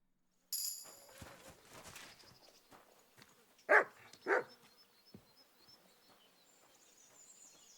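A dog in Kingdom Come Deliverance II gives two sharp, loud barks in quick succession midway through, surrounded by faint rustles, thumps and distant bird chirps in a quiet outdoor scene.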